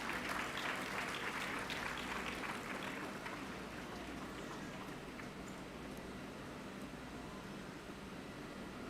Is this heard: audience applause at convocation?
yes